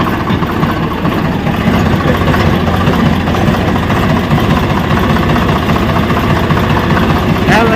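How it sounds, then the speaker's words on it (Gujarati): A tractor's steady, rumbling diesel engine idles close by, loud and continuous throughout, with faint voices mixed underneath, in a village near Botad. "સવાર સવારમાં આપણે ટ્રેક્ટર ચાલુ કરી દીધું"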